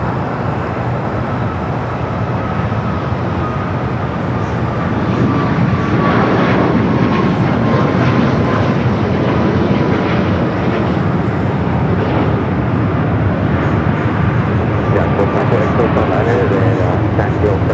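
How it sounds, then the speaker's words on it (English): A United Boeing 737 MAX 8 jet airliner departs runway 25 right at Los Angeles International Airport, a loud, steady broadband engine roar holding throughout with a faint whining tone, while a voice talks over it. "Next takeoff, 25 right, United flight 1006. Heading to Vegas, 737 MAX 8."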